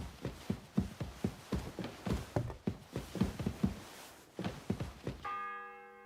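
A church bell in the medieval game Kingdom Come Deliverance 2 tolls in a steady rhythm of heavy, close strikes, about a dozen in quick succession, before giving way to a sustained tonal chime.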